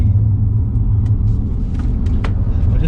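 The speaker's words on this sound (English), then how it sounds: "There's only that electrical sound that you will hear, the whoop thing." An Audi e-tron Sportback S electric car accelerates with no engine noise, giving a loud, steady low rumble of road and cabin sound with only faint, brief higher tones on top.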